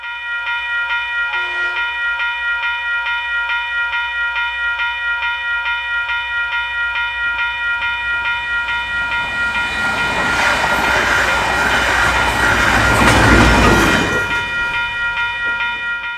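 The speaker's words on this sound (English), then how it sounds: "with DFB 7077 propelling a northbound Te Huia service" DFB 7077 electric locomotive propels a northbound Te Huia passenger train past Solbray Road near Ngāruawāhia, with a level crossing bell ringing steadily throughout while the train rumbles and roars past close by, swelling then fading.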